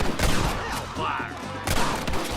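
Rapid gunfire from a Western shootout in Red Dead Redemption, a dense burst of close, loud shots at the start and again near the end, with a brief lull between.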